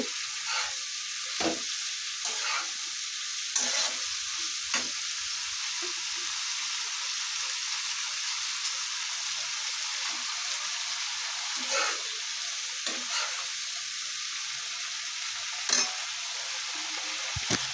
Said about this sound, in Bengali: আমি বাঁধাকপিটাও দিয়ে নিচ্ছি এখন নেড়ে চেড়ে ভালো করে